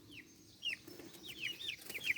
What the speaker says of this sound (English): I don't want to chase little chickens.